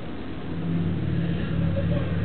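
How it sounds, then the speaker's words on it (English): A motorcycle engine rumbles low and steady nearby, its growl swelling slightly as it passes. "It's not bad enough that the engine is loud."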